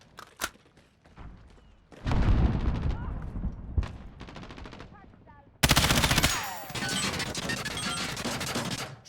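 Bursts of automatic gunfire in Call of Duty: Modern Warfare, loud and close, with rapid crashing volleys and a sharp opening shot, under brief in-game radio voices.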